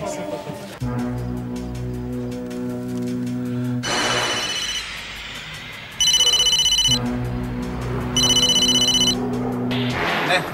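A mobile phone rings loudly near the end in two bright, repeated bursts of ringtone, with tonal music and people talking earlier in the scene.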